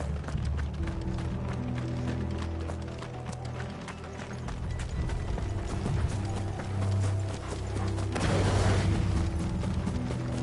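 Horses' hooves clip-clop in a rapid, continuous gallop in Final Fantasy 16, close and busy over a low rumbling game soundtrack, swelling louder near the end.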